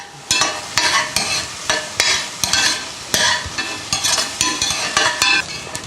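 Onions and cumin frying in ghee for palak paneer: a steady loud sizzle broken by repeated scraping stirs of a utensil against the pan, close up and without talking.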